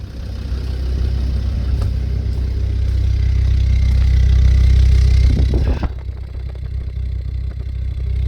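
A Land Rover Discovery 2 with an automatic gearbox idles steadily and close by, a smooth low hum that holds even for several seconds before dropping away abruptly near the end.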